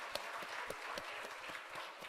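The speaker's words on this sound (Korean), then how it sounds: "우리 크게 박수로 축복하겠습니다." A church congregation claps in blessing after flowers are presented, a soft, fairly even patter of many hands that stays faint and steady throughout.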